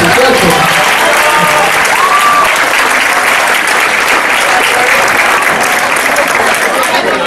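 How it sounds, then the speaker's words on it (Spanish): Loud, sustained applause from a large crowd, steady clapping filling the room from start to finish. "los aplausos fueron para el maestro"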